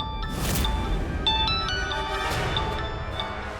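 A mobile phone rings in a busy indoor scene, its bright repeating electronic tones chiming several times over a steady background murmur.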